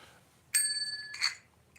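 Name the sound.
manual bell ringing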